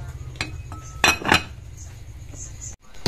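Sticky rice biko being stirred in a pot, with scraping spoon strokes and metallic clinks against the pot, a couple of louder knocks near the middle, close and clear, with some faint background murmur.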